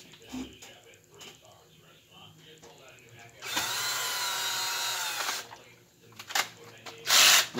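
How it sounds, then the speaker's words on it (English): A power drill driving screws into a Korg Poly-61 synthesizer whirs in a sustained burst of about two seconds, then shorter spurts follow, with quiet clicks and handling noises between. "make the drill as weak as possible so that it breaks and clicks"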